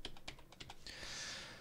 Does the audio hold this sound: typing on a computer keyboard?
yes